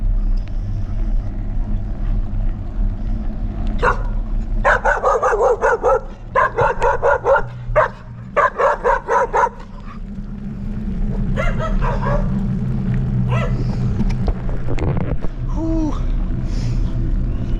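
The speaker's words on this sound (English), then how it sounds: "Oh shit, we've got some street dogs." Several Mexican street dogs in Playa del Carmen bark in rapid, overlapping bursts at fairly close range, over a steady outdoor rumble of wind or traffic.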